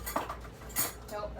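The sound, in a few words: rummaging for a little spoon among cutlery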